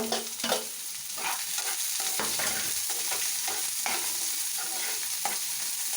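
Onions sautéing in a pan for bonda with chutney, a continuous bright sizzle overlaid with regular scraping strokes of a spoon stirring, near and steady throughout, no talking.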